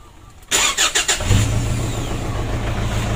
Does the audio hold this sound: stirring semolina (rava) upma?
no